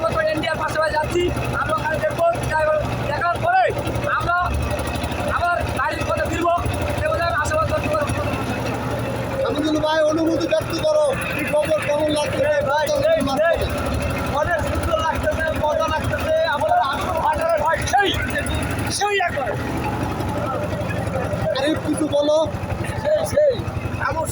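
Motorboat travelling on the Padma river carrying village people, a steady engine drone running throughout beneath constant chatter and voices of passengers aboard.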